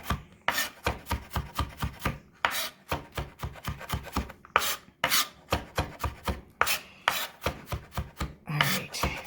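Garlic being finely chopped with a knife on a board, a rapid rhythmic run of crisp blade taps in quick bursts with brief pauses, close and clear, no talking.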